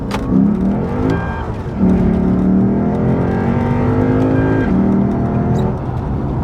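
A Lexus IS car engine revs and pulls hard, its throaty tone climbing steadily and then easing off, heard up close and loud with no talking.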